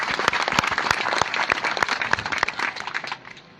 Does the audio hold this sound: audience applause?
yes